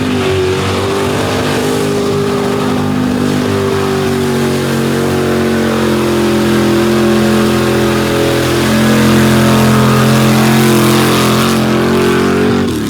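A mud bog truck, Old Yeller, roars through a sandy mud pit at a mud slinging event in 2022, its engine loud and close, revving continuously with shifting pitch for the whole run, with no voices.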